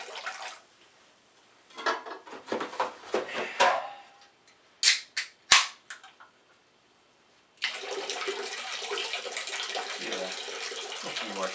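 Water gushes steadily into a 5 gallon bucket, filling it about halfway, a loud, even rush that starts partway through after a stretch of scattered clanks, splashes and near silence.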